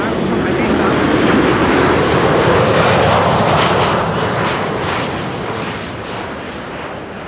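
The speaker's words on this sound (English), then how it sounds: "Transavia, Ecstasy Express, flight 5672, arriving from Ibiza." A Transavia passenger jet arriving at Amsterdam Schiphol Airport roars loudly overhead, a broad rushing engine noise that swells and then slowly fades as it passes.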